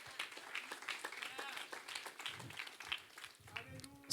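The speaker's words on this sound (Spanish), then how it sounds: "Dale un aplauso al Señor." Applause from a church congregation, scattered clapping at moderate distance that swells and ebbs unevenly over a few seconds, mixed with some voices.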